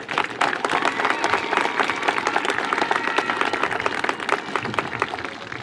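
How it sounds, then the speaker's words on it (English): Applause from a graduation audience at a high school ceremony, a dense steady wash of many hands clapping that holds at a constant level for the whole stretch, with faint crowd murmur mixed in. "So one more round of applause for all the supporters in your life."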